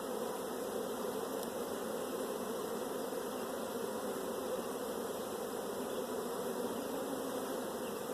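Honey bees swarm around an open hive during a mite treatment, a constant dense buzzing drone that stays even and moderately close throughout, with no talk.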